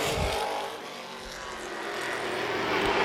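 Late model stock cars race at Baer Field Speedway, a loud continuous engine roar that swells and fades as the cars pass close by, with no talk.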